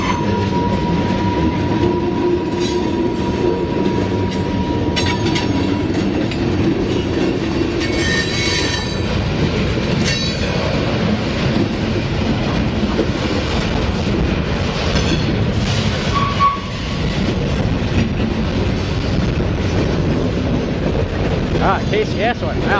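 A long NS freight train rolls steadily past for over twenty seconds, its wagons rumbling continuously with occasional metallic wheel squeals and clacks, loud and close.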